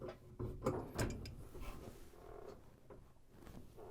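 A household water valve is turned shut and a pressure gauge is unscrewed, making close metallic clicks, ratcheting scrapes and knocks, louder at first and then trailing off into softer handling noises.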